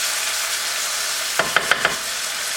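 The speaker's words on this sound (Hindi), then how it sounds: "इसमें अब आप सॉस डालेंगे जो हमने बनाई थी टैरागोन सॉस" Tarragon sauce poured into a pan of chicken sizzles and fries steadily, with a few brief louder spatters near the end, and no voice over it.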